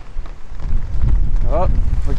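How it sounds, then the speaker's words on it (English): Wind gusts before a thunderstorm at night in Bay Ridge, Brooklyn, rumble and buffet the microphone in a low, steady roar, with a brief voice-like sound rising over it near the end. "It is getting windy right now."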